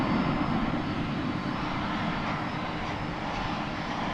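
MD jet airliner engines roar steadily as they spool up for takeoff at DFW Airport, a loud broadband rumble holding constant throughout.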